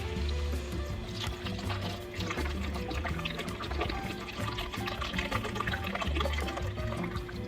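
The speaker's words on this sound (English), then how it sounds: "After 3 minutes, go in with your chicken broth." Chicken broth pours into a pot of Zuppa Toscana with sausage, onion and garlic, making a continuous close splashing gurgle of liquid with no one speaking.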